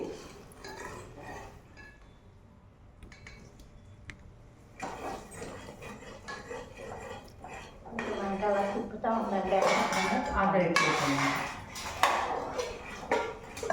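Sugar syrup stirred in a pan, a spoon scraping and clinking against the metal in steady strokes, growing louder and busier midway, with a voice talking over it.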